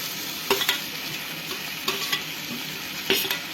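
Carrots added to egg Maggi noodles frying in a pan give a soft steady sizzle, with a few sharp scraping clicks of stirring in quick pairs.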